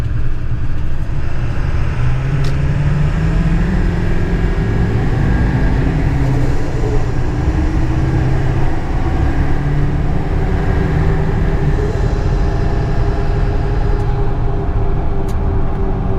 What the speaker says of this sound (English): Yeah, the turbo is definitely way more prominent.